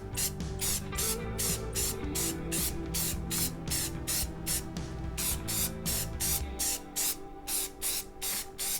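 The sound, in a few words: spray painting primer onto switch plates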